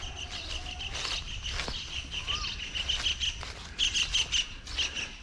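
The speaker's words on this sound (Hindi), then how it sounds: "परिंदों के चहचहाने की आवाज़ आप सुनते आ रहे हैं वीडियो के अंदर," Outdoors at a quiet railway station on a warm day, various birds, a koel among them, chirp and call steadily over a constant broadband background hiss, with repeated bright tweets standing out.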